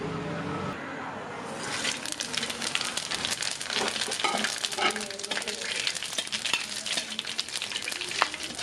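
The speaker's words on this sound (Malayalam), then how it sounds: "ഇനി നമുക്ക് ഇതിനകത്തേക്ക് 2 വറ്റൽമുളക്, കറുത്ത ഏലക്ക, കറുവപ്പട്ട, ബേ ലീഫ്, ജീരകം, ഏലക്ക, പെരിഞ്ജീരകം, ഗ്രാമ്പു, ജാതിപത്രി, ഇത്രയും സാധനം ഈ ചൂടായ എണ്ണയിലേക്ക് ഇട്ട് കൊടുക്കാം" Whole spices—dried red chillies, black cardamom, cinnamon, bay leaf, cumin, green cardamom, fennel, cloves and mace—hit hot oil for chana masala, a brief quiet then a steady bright crackling sizzle with stirring scrapes, close and continuous.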